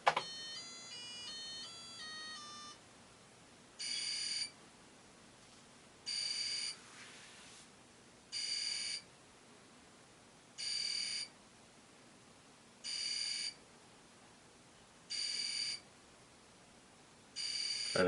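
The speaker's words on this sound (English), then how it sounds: "Telephone." A computer-generated telephone ring from a Commodore PET/CBM sounds in regular electronic bursts, about seven evenly spaced trills after a brief rising tone sequence, clear with quiet gaps between.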